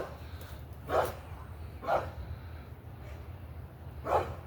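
A dog named Dottie, kept by a van, gives three sharp, separate barks spaced a second or two apart, moderately near, over a low steady background rumble.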